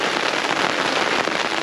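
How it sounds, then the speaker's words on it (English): Heavy rain pours down during a storm, a dense, loud, steady hiss of drops hammering on surfaces all around, with no voices. "all right, it's raining, it's coming down"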